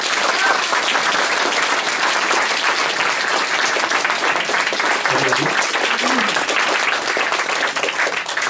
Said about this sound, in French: il mérite les applaudissements car souvent il est trop discret